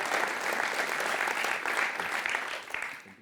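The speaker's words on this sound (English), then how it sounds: "Please, a warm applause for Olivier." A warm burst of applause from the audience at an Amsterdam science and innovation awards ceremony, dense and steady for about three seconds before tapering off at the end.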